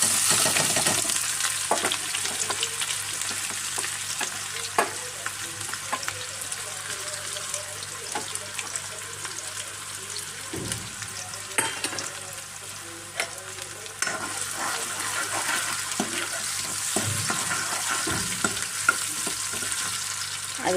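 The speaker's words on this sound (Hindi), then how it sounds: "अब इसको लाल करेंगे थोड़ा सा प्याज को" Chopped onion with cumin frying in hot oil, a continuous moderate sizzle with occasional stirring clatter and brief voice sounds over it.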